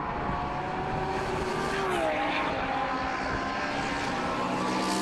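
GT1 race cars head toward the chicane at the Nürburgring, engines roaring continuously with a pitch that dips as they brake, underneath a commentator's voice.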